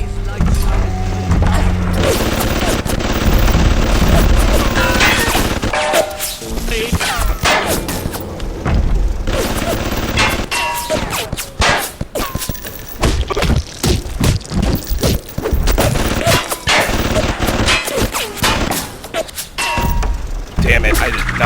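Turret machine-gun fire in the video game BioShock: rapid, loud bursts of clattering shots with metallic clangs and thuds, running through a busy stretch of game noise under speech.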